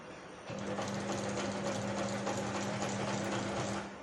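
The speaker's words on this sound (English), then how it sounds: "what you're watching me do now is sew on the pocket in front of the chest" A sewing machine stitches a pocket onto the chest of a workshop apron, a steady, quiet mechanical whir running continuously for about three seconds before stopping.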